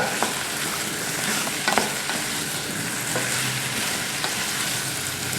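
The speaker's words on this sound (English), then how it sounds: "Now you can hear that starting to sizzle." Apples for apple sauce sizzle steadily in a hot pan, a constant crackling hiss with occasional soft scrapes of stirring.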